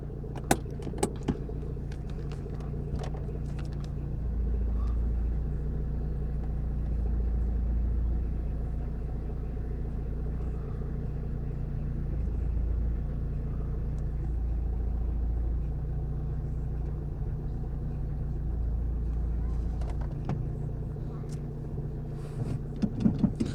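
A red 1993 Citroën ZX 1.9 TD Volcane diesel idles steadily with a low, continuous rumble, and a few clicks and jangles come near the start and end.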